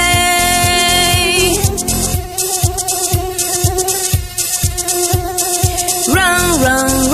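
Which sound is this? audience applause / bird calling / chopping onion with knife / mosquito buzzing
mosquito buzzing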